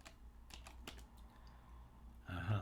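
Computer keys are tapped in a Control R combination: a few sharp, separate clicks followed by a short burst of quicker, louder keystrokes close by.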